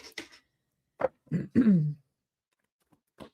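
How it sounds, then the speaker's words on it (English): A person clears their throat in a few short, rough bursts close by, followed by brief quiet and a faint final grunt. "I keep wanting to clear my throat."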